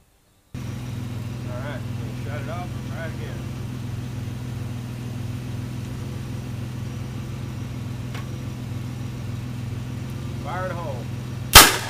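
A homemade hydrogen cannon fires once, a sharp loud bang right at the end after a long steady hum and idling drone, with brief speech earlier.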